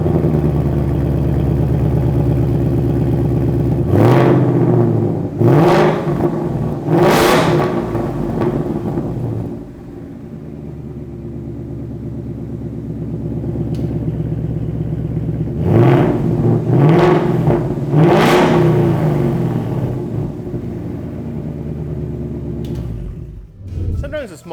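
A 2015-2023 Mustang GT V8 with a BBK X-pipe resonator delete revs hard in two bursts of rising and falling roars over a steady rumbling idle, loud and close, with no talking.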